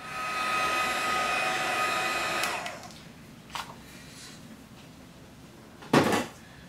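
A heat tool blows with a loud steady whoosh for a couple of seconds while melting embossing powder on a stamped card, then cuts off, followed by quiet clunks of it being set down.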